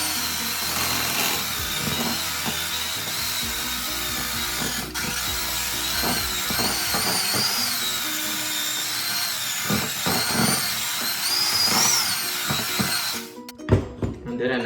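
An electric mixer beats snickerdoodle cookie dough with a continuous high whirring drone and some uneven rattling, then cuts off abruptly just before the end.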